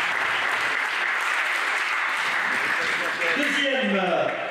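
Sustained applause from a crowd at a race results ceremony, steady and dense throughout, with a voice starting to speak near the end.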